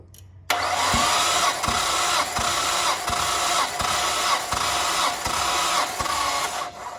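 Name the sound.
Nissan R34 engine cranking during compression test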